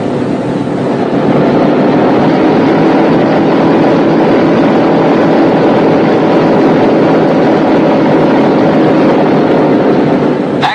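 Boeing B-17 Flying Fortress bomber with its big radial engines running, a loud steady roar that holds for the whole stretch with no voices.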